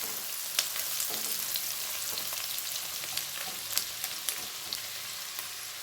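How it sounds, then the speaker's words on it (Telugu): Ginger and green chillies fry in hot oil, giving a steady, close crackling sizzle with scattered sharper pops throughout and no voices. "నూనె వేడెక్కింది. అల్లం పచ్చిమిర్చి వేసుకుందాం. ఇవి కొంచెం లైట్గా ఫ్రై అవ్వాలి."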